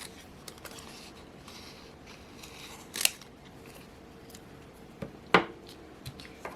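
Scissors snip around a cut-out planner decoration in a quiet room, giving a few soft, scattered clicks and two sharper, louder snips, with no talking.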